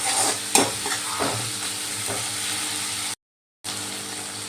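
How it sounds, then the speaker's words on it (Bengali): Masala is stirred and sautéed in a pan for a prawn kofta curry, the ladle scraping in a few strokes over a steady sizzle, with a brief dropout near the end. "এই কষানোটা কিন্তু খুব ভালো করে কষাতে হয় হাতে সময় নিয়ে"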